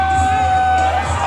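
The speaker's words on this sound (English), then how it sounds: "Gets a nice, warm round of applause from this crowd" Crowd at an independent wrestling show cheering and whooping for a wrestler's entrance, a brief loud roar of voices with a sustained tonal hum underneath.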